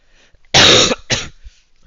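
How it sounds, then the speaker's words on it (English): Two loud, harsh coughs in quick succession, close up and on their own, the first longer and raspier than the second. "Coughing here."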